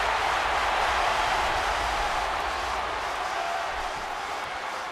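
A video game wrestling crowd from an "I Quit" championship match cheers with a steady, dense roar that holds loud and unbroken throughout.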